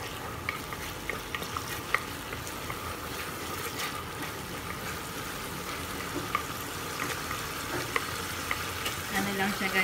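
Garlic sizzles and fries steadily in a pan, with occasional stirring scrapes, as the base for cooking kangkong; the crackle stays continuous and fairly close throughout, without any talking.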